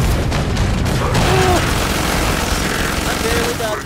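A missile explosion in the Killing Floor 2 video game, with loud, dense booming and crackling gunfire-like bursts that last for the whole stretch while a voice shouts over the chaos.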